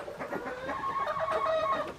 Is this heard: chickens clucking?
yes